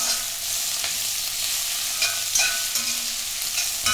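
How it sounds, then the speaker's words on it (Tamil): Bottle gourd and its skin sautéing in a pan, a continuous close sizzle with periodic stirring scrapes and soft spatula taps, with no talking. "காயை கொஞ்சம் நல்லா வதக்கிட்டு கொஞ்சம் வதங்கினோடனே இந்த தோல் வச்சுருக்கணும், போட்டு நல்லா கொஞ்சம் வதக்கிக்கணும்"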